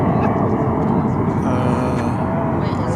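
Boeing 737-800 airliner on the west side of DFW airport preparing for takeoff, a steady, loud broadband engine roar that holds without a break, with faint talk mixed underneath.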